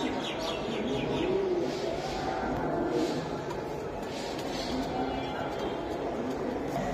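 Domestic pigeons coo softly and steadily at a Bangladeshi pigeon seller's loft, among a nesting pair with a hen on eggs, with chirps and faint background voices and a steady low hum throughout.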